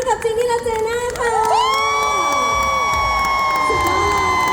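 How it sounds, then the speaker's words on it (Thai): A live audience at a CentralWorld talk-stage event in Bangkok bursts into loud, high-pitched cheering and shrill shouting for two performers, a dense crowd roar sustained close by after a brief voice at the start. "วันนี้ขอเสียงปรบมือดังๆให้กับจินนี่และเจน่าค่ะ"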